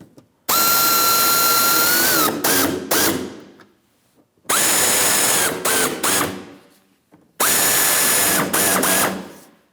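A power driver tightens bumper cover fasteners on a 2007-2014 Ford Edge in three loud, close whirring runs, each ending in a few quick stuttering pulses before stopping.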